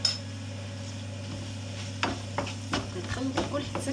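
Chicken and rice being stirred and fried in a pan, a steady low sizzle with a spoon scraping and clinking against the pan in a few close, irregular strokes toward the end.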